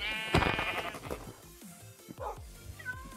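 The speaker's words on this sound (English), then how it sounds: "I found a sheep!" Sheep in the Minecraft video game bleat several times in quick succession. The bleats are short and wavering, come from nearby, and sit over faint game sounds.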